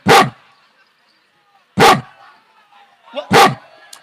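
A performer on a Marathi comedy stage imitates a puppy's yelp three times, short sharp cries separated by pauses, close and loud.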